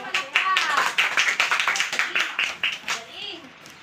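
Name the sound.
classroom applause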